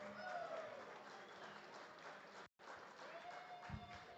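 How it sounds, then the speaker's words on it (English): Audience applause at a pitch competition demo day, a moderate, distant-sounding clapping crowd that briefly cuts out midway, then resumes with a faint tone and a low thump. "Round of applause."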